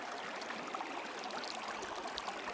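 A mountain stream near Berg Lake flows and trickles around someone's knees and feet, a soft, steady close-up wash of water with faint splashes, alone without voices.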